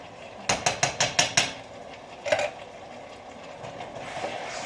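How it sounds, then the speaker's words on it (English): Metal spoon tapped repeatedly against the rim of a cooking pot to knock off tomato paste while making chili: a quick run of about six sharp clinks, then one more tap after a pause, fairly faint. "Let me get this tomato paste off this spoon."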